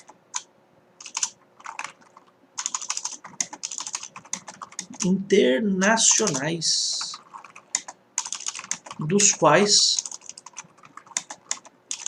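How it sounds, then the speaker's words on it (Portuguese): Rapid clicking of a computer keyboard during a constitutional law lesson, steady bursts of keystrokes close to the microphone, with someone speaking over parts of it. "tá digitando mal hoje"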